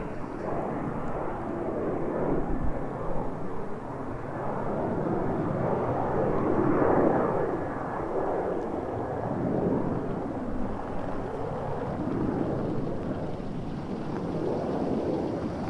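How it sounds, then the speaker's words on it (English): A United Boeing 737-800 airliner departing toward Chicago roars steadily for the whole stretch, a broad loud jet-engine rush that slowly swells and fades at some distance outdoors, with wind buffeting the microphone and no talking. "this is United 737-800 heading to Chicago"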